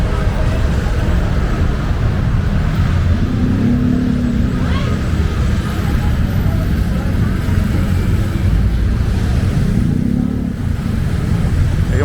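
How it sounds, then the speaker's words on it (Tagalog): Loud, steady roar of busy street traffic near Claro and Recto in Divisoria, Manila, engines rumbling and revving nearby, with a voice briefly audible over the din. "Kaya maingay mga sasakyan"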